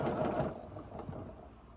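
A sewing machine runs a short, quiet burst of stitching along a quilt seam, its motor humming with a rapid needle patter.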